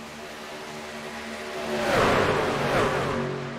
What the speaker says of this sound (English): Nothing I like better than listening to these trucks at full sound